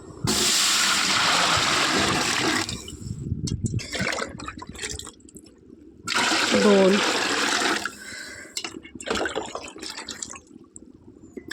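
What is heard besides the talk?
water poured from a pot into a cooking vessel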